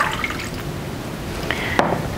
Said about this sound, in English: You're going to add your warm water to a bowl